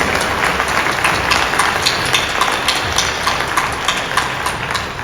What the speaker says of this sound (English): So I want to give some round of applause to them.